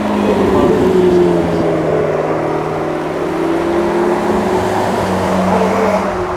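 Supercars including a McLaren, two Ferraris and a BMW i8 drive past at a supercar weekend event at Beaulieu, a loud continuous engine drone with shifting pitch that stays steady throughout, mixed with a voice talking over it.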